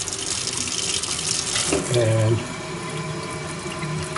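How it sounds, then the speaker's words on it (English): Water runs strongly from the tap into a stainless steel twin kitchen sink, a steady hissing flow under high water pressure that swells briefly midway. Someone speaks a single word over it. "Show you the stainless steel sink, which this building has terrific water pressure."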